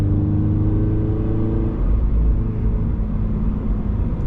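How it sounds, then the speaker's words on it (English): Gen 2 Subaru BRZ engine lugging at low revs while driving, a steady loud low rumble with a deep drone that holds throughout. "Meanwhile, I lug my engine."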